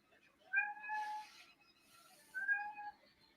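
Two clear cat meows, one after another with a short pause between, fairly close and distinct over a faint background hum.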